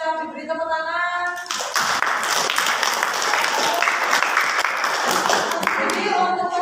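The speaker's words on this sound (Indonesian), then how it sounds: "silakan bisa diberi tepuk tangan" Clapping from a classroom audience of teachers breaks out after a short stretch of talk and continues as steady, moderately loud applause for a presenting group, with a voice speaking over the end.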